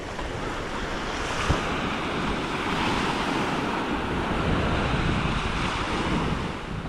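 Ocean surf washes steadily onto a calm beach in the morning, a continuous broad rush of breaking waves with wind buffeting the microphone, no voices.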